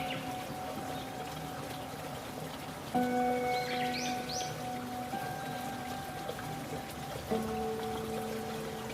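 Water from Tancak waterfall, the tallest waterfall in Jember, pours down in a steady, unbroken rushing roar that fills the whole stretch, with faint tonal hums above it and no voices.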